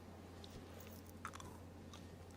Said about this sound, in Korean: 굉장히 바삭한데 이거?